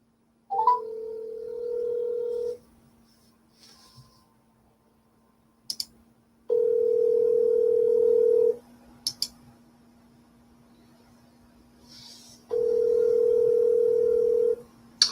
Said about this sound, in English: hope you can hear the phone all right